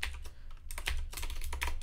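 Typing on a computer keyboard while coding, a short run of close, crisp key clicks in an uneven rhythm, with no speech.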